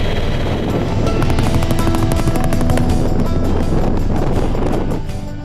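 A helicopter at an outdoor HALO skydiving event thumps loudly and close with a rapid rotor beat, accompanied by heavy wind rumble throughout.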